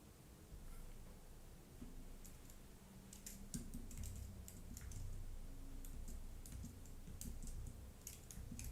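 Typing on a computer keyboard during a live stock market stream, a quiet, uneven patter of key clicks in irregular bursts over a low background hum.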